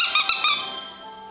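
A dog's squeaky rubber toy gives a few quick high squeaks, close and fairly loud, then a fading ringing tail.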